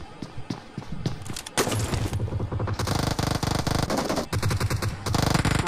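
Rapid automatic gunfire in the mobile battle royale game PUBG Mobile Lite, dense bursts of shots firing back to back at close range, loud and sustained with brief gaps between volleys.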